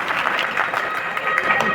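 Audience clapping steadily after a call to applaud at a community program in Deoghar, a dense continuous patter with some voices mixed in, fairly close and even in loudness throughout.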